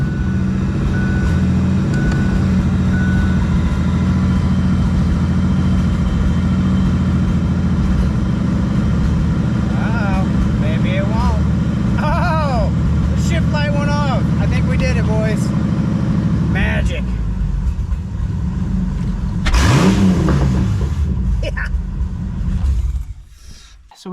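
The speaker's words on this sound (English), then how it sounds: "I need this thing 2-wheel drive so I can spin the drive shaft around." A 2000 Ford Explorer engine runs steadily, loud and close, with a droning hum while a person talks over it; the tone shifts and roughens near the end.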